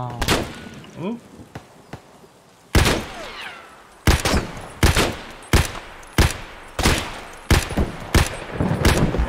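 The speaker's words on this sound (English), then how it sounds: "Somebody else shooting at me from somewhere." Gunfire in the shooter game Escape from Tarkov, sharp loud single shots in irregular bursts, some close and some spaced apart, with a few faint earlier pops and occasional talk between them.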